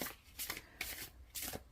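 Fyodor Pavlov tarot cards being overhand shuffled by hand, three quick bursts of soft papery slaps and riffling swishes close up, with a pause between each pass, no voices.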